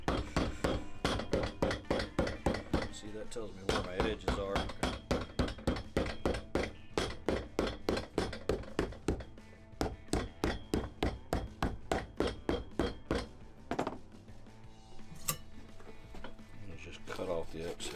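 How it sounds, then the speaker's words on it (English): Cork filler packed into the sole cavity of a five-year-old Thursday boot during a recraft is hammered in a fast, steady run of sharp, close taps, with a brief spoken remark partway through. "And you hammer it."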